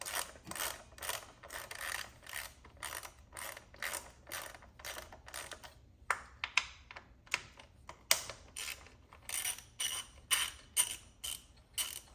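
Rapid ratchet clicks sound in repeated short bursts at close range as 10mm bolts on the ignition coils of a BMW E36 are loosened, with brief pauses between strokes and no talking.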